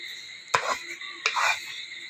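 Fried rice with cabbage and spring onion being stirred in a pan: two distinct scraping, clattering strokes of a utensil against the metal, close and fairly loud, with quiet between them.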